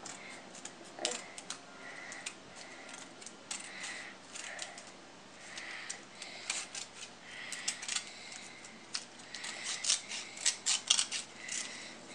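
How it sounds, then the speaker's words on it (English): Scissors trimming excess magazine paper for a woven craft, a series of close, crisp snips and paper rustles in irregular bursts that grow busier toward the end. "Trim it if there's any excess"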